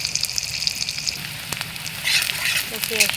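Chopped onion sizzling in hot oil in a pan, a steady crackling fry that picks up and brightens toward the end, with no talk over it.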